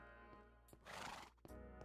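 A Minecraft horse neighs in one loud, whinnying burst, with its blocky game footsteps faintly clip-clopping before and after.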